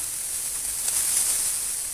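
Eggs fry in a pan over low heat, giving a steady, even high sizzle and hiss that runs unbroken throughout, with no talking.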